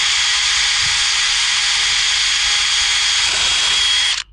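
A power drill whines steadily and loudly for about four seconds while driving screws into a pressure washing truck build, then cuts off abruptly at the end.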